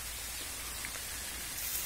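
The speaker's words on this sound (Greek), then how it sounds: "έπιασε καταρακτώδη βροχή, οπότε τον αφήνουμε το στόχο, δεν βλέπω να σταματάει" Torrential rain pours down outdoors near an oak tree, a dense, constant hiss that is steady and fairly loud, with no talking.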